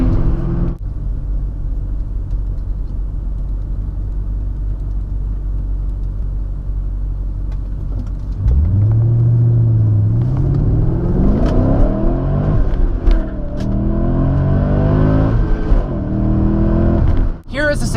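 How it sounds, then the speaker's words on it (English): Manual car engine idling with a low rumble, then revving hard past the redline with rising and falling pitch as it climbs, with a voice speaking over it. "over revving your engine and passing the red line can be really"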